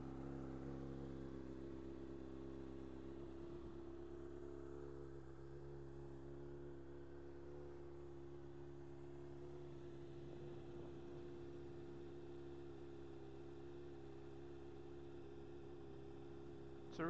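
Motorcycle engine idling as it warms up, a faint, smooth, steady low rumble continuing unchanged throughout with no revving.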